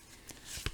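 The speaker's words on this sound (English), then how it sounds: "You all know, my less than stellar shuffling." A deck of playing cards being shuffled at a tarot-style reading table, a brief soft riffle with a sharper flutter near the end, close and fairly quiet.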